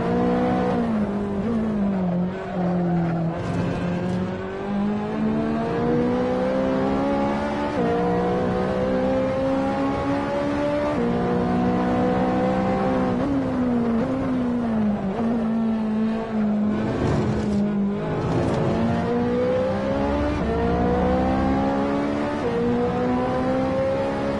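A road car in Assetto Corsa, on track at Monza, revs steadily through its gears. The engine note is loud and continuous, rising and falling, with occasional tyre squeal as the car slides through corners. No voices are heard.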